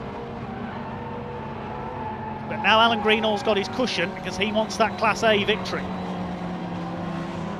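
Racing cars speeding side by side past the line on a circuit, a low engine drone building into a loud burst of revving passes, with a commentator talking excitedly over it throughout.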